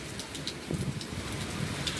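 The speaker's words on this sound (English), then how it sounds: "It's a rainy, stormy night." Steady, heavy rain falling and pattering on surfaces, a constant wash of noise with no voices.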